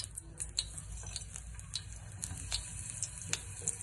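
A couple of spoons of oil sizzle on a hot dosa pan while plantain pieces cook, giving a soft steady crackle broken by sharp spitting pops and light ticks from the pan.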